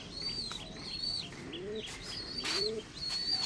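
Coloured pigeons in a loft give soft, low cooing mixed with higher chirping calls, close by and moderately quiet over a faint background hum.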